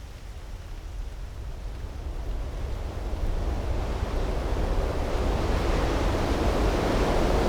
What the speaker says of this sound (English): this terrible sound of the wind against the fuselage as the plane drops from the sky